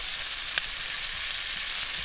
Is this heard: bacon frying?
yes